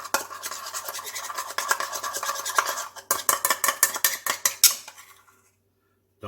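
Jerk seasoning and marinade stirred together in a bowl, a utensil scraping and clinking against the sides in quick repeated strokes, close and fairly loud, ending in a short silence.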